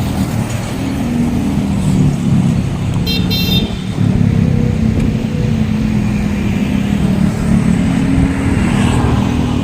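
Heavy road traffic rumbles steadily on Skyway Stage 3, a busy elevated expressway, with a brief honk partway through. The noise is loud and continuous.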